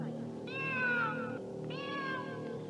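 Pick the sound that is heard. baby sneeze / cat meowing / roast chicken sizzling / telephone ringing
cat meowing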